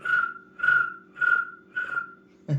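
A person imitates a cricket chirp with the voice, four evenly spaced whistly chirps repeated close and alone, followed by a short cutoff at the end.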